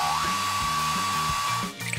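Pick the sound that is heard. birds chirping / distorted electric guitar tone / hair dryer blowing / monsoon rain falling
hair dryer blowing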